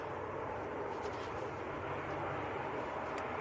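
An Aer Lingus ATR turboprop airliner from Dublin at Manchester Airport, heard as a steady, moderately loud broadband engine roar that holds even throughout, with no voices.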